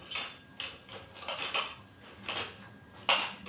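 Steel spoons clink and rattle as they are handled and set away among household puja utensils, a few clustered metallic clatters with a sharper clink near the end, close and fairly quiet, no voices.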